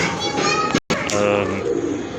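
A Golden-and-Teddy-breed pigeon coos close by, brief soft calls broken by a short gap while people talk over it.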